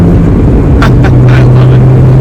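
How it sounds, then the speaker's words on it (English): An Audi TT Quattro's turbo blow-off valve lets out several short hissing bursts over a loud, steady engine drone, heard close from inside the car. "listen to this blow off"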